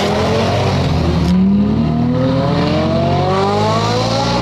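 A drag-racing car launching from a standstill, its engine loud and near, revving with a steadily climbing pitch as it accelerates hard, with no voices.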